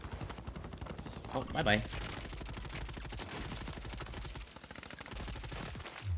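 Rapid automatic gunfire in Call of Duty Warzone on Rebirth Island, dense repeated shots running almost continuously, with a player's voice briefly speaking over the bursts.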